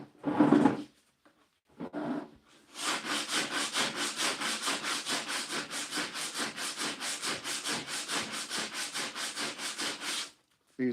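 Steady back-and-forth rasping of a curved sanding block on a vintage wooden chair, a brief scrape then long continuous rhythmic strokes, close and loud, with no voices.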